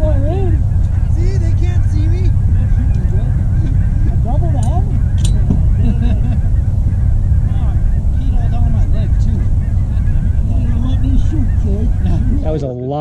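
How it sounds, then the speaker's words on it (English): Many lesser and cackling geese honk overhead in a dense, continuous chorus during a goose hunt on the Front Range, rising and falling over a loud wind and engine-like rumble. "was a lot of geese"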